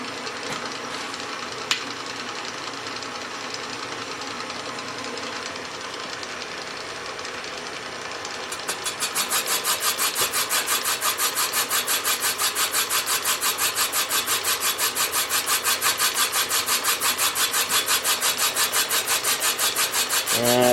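A boring bar cuts a cylinder of a Willys Jeep F134 engine during a rebuild. There is a steady grinding, rasping machine drone, and partway through it shifts to a harsher, rapidly pulsing chatter. The cut sounds loud and close, with no talk.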